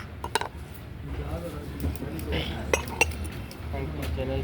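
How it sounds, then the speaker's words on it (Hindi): Small plastic pots and dishes, also used as measuring cups, clink against each other at a busy market stall, with scattered knocks and rattles under steady crowd noise and nearby talking. "और ये छोटे छोटे प्लास्टिक के बर्तन हैं"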